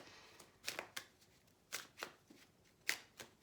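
Tarot cards are shuffled close by in several quick, crisp riffling bursts spaced irregularly over a few seconds, quiet and unaccompanied by any voice.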